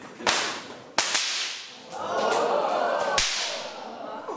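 A whip cracks four sharp times in a crowd setting, loud and close, with a rushing swish of the lash in between cracks.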